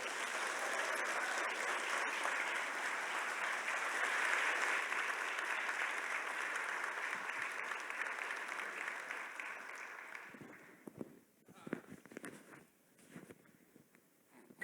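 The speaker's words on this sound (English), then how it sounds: "a warm round of applause this morning for Congressman Hakeem Jeffries" Warm round of audience applause for Congressman Hakeem Jeffries at a morning plenary session, steady and fairly distant, then tapering into scattered claps and light movement.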